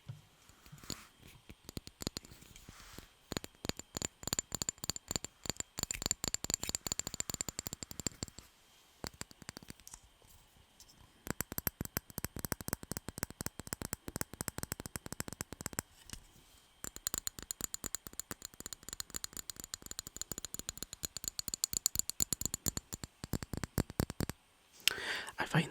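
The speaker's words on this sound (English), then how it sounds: "Now for the glass tapping." Glass tapping and clicking from Fortnum & Mason glass items, some with paper stickers, in dense rapid bursts of light, close taps with brief pauses between runs, heard alone.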